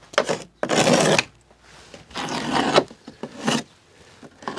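Scraping and rubbing as a window frame is cleaned during window installation, in several rough broadband bursts of about half a second to a second, close and fairly loud, separated by short quieter gaps.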